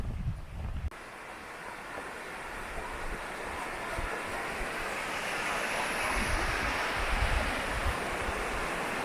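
Tatsuzawa Fudo Falls in snowy winter Fukushima, Japan, sends up a steady broad rush of falling and flowing water, constant and moderately distant, after a brief knock at the start.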